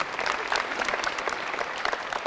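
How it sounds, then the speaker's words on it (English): An audience claps in steady, continuous applause, many hands blending into a bright, even patter with no speech over it. "give him a round of applause"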